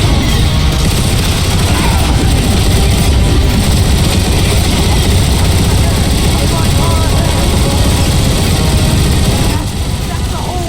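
Bomber aircraft fly over a street battle in a Transformers game, making a loud, unbroken low engine roar that fills the whole stretch. Voices speak over the din.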